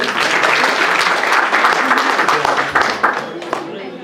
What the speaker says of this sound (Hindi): सूरज मलिक के जोरदार तालियां